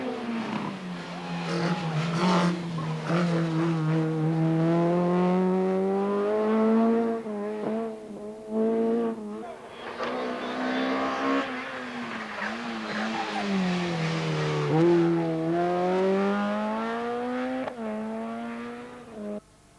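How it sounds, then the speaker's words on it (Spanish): A Peugeot 306 Maxi rally car races on a Canary Islands rally stage in 1997, its engine revving hard with pitch sweeping up and down through gear changes, loud and close with no voices. "En su primera carrera completa con el Peugeot 306 Maxi, Lorenzo Raya se encontraba sexto entre los"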